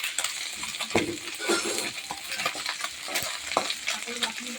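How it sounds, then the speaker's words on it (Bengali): Small chuno fish frying in hot oil, a continuous bright sizzle with occasional clicks and scrapes of a utensil turning them in the pan, fairly quiet with no voices. "মাছের এক পিস ভাজা হয়ে গেছে উল্টে দিয়েছি দেখো মাছগুলো খুব সুন্দর"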